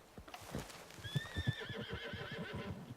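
A horse in the video game Red Dead Redemption 2 whinnies with a long, wavering, high-pitched call, close by, over rhythmic clip-clopping hooves and low rumbling.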